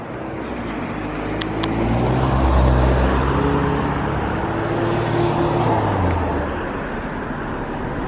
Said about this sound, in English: of course, we got the traffic here